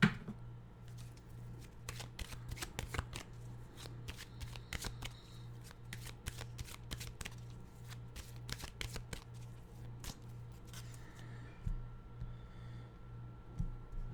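Animal oracle cards being shuffled, a steady run of quick crisp riffling flicks close by over a low constant hum, with no talking.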